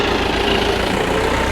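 A tractor engine idles steadily nearby, a low continuous rumble with no speech.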